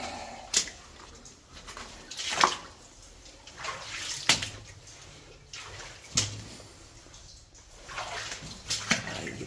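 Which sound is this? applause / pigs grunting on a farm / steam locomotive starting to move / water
water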